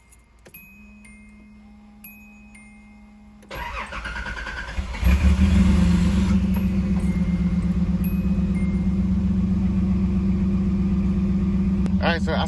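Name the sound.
1985 Nissan 300ZX engine starting and idling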